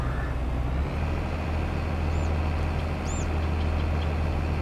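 A tractor engine idles in Farming Simulator 22, a steady low rumbling drone that shifts slightly early on and then holds constant, with faint chirps above it and no talking.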